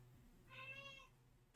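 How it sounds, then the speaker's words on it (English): Pet cat in a room giving a single soft, short meow, faint and alone, followed by a sharp knock. "Oh God, my cat's walked into my room."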